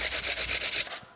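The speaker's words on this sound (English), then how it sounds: "For a little sweetness, we've got apple, so we want to peel and grate this one." A peeled apple is grated into a pot with quick rhythmic rasping strokes, about nine even scrapes in a row, close and crisp, then a short pause, with no voices.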